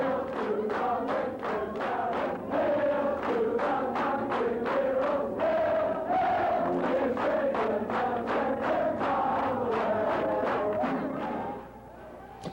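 A large crowd of Michigan fans celebrates the 1976 22-0 win over Ohio State in Ann Arbor, chanting and clapping in a steady rhythmic beat that fills the air, then drops away abruptly near the end.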